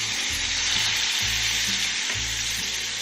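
Honey garlic sauce sizzles hard in the hot pan used for pork chops, a loud, steady hiss with faint low bubbling and occasional stirring, no voices.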